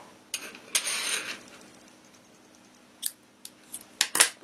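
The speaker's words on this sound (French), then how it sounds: "on coupe la laine" Scissors snip knitting wool close up, with a couple of soft cuts early on, a quiet pause, then a quick cluster of crisp clicks and snips.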